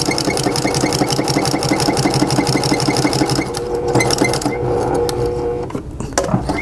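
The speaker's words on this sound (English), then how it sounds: "At the 1/4 inch, I'm going to sew, back stitch," A sewing machine running steadily as it stitches a coupon wallet, a fast even mechanical rattle that briefly pauses and shifts pace midway for a back stitch, then resumes with a few uneven bursts.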